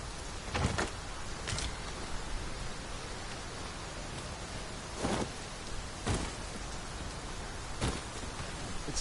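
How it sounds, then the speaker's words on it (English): Rain falls in the video game Dragon's Dogma 2 as a soft, even hiss of steady noise, with a few brief sharp clicks or knocks breaking through at irregular intervals. "It started raining, Master."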